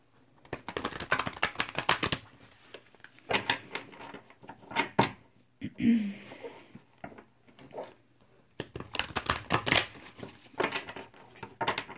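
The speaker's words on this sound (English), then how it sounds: "And I'm just going to shuffle these cards really quickly." Tarot cards are shuffled in several quick bursts of rapid riffling and flicking, separated by short pauses, close and fairly quiet.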